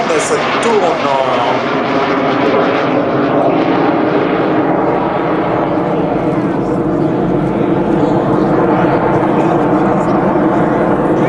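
A Zéphyr propeller aircraft painted in French naval aviation colours flies past at an air show, its loud, steady engine drone dominating throughout with a rising whine at the start.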